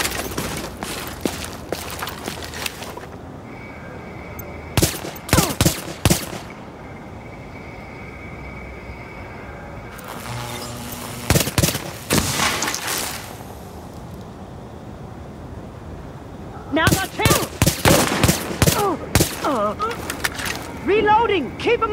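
Gunfire in the video game Tom Clancy's The Division: several loud bursts of rapid shots and blasts separated by quieter stretches of background game ambience.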